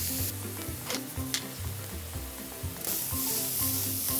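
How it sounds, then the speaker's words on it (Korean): Onions sauté slowly over gentle heat in a pan, a soft continuous sizzle broken by stirring scrapes and light clicks of the utensil, close by, with no voices. "너무 센 불에 하면 양파가 타버리니까 살살 성질 급하게 하지 마시고 천천히"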